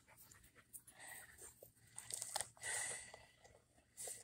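A dog in a garden grabs and chews things, with close panting, crunching and wet mouthing noises in uneven bursts, fairly quiet, with no talking.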